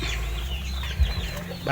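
Chickens clucking inside a coop, close and continuous, with a few brief louder calls rising over a steady low background.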